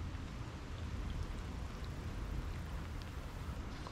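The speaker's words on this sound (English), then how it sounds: "Some rain coming in." A soft, continuous rain hiss with a low rumbling undertone beside a creek, steady and unbroken, with no one speaking.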